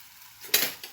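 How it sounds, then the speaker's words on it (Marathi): Ground coconut masala paste is stirred and sautéed in a pan, giving a short, close burst of sizzling and scraping that swells briefly and then fades. "ते सुद्धा छान परतून घ्या"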